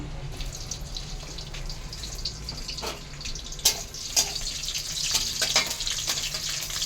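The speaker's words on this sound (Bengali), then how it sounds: "আমার কাঁচা লঙ্কাটা ভাজা হয়ে গেছে" Green chilies frying in hot oil in a heated kadai for a vegetarian ash gourd curry, a steady low hiss with a few sharp clinks of a spoon and a faint voice in the background.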